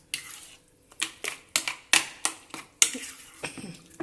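Marinated red chicken being mixed in a bowl for butter chicken, a series of short, close wet scraping and clinking strokes in an uneven rhythm, each stroke distinct, with no voices.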